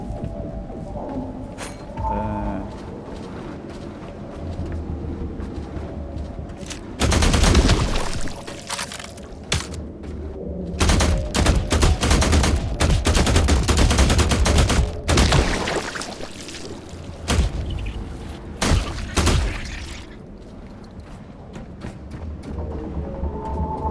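Gunfire from The Last Caretaker crackles in dense rapid bursts, loud volleys and scattered single shots broken by quieter gaps, with game ambience underneath.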